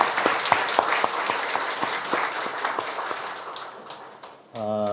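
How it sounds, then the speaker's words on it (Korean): Audience applause at a Korean church meeting on church reform, a steady burst of many hands clapping with sharper individual claps standing out, fading toward the end as a voice begins speaking. "박수를 치시려면 그냥 확실하게 쳐주세요."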